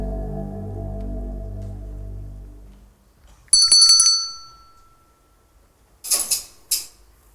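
A hand bell is rung once, close and bright, and after a pause the Svengali clockwork doll answers with two short mechanical bursts; a sustained tonal sound fades out before the bell.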